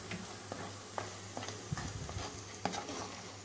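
Thick papaya laddu mixture with rice flour stirred over low heat, giving a soft steady sizzle broken by irregular scraping ticks of the spoon against the pan, close and fairly quiet.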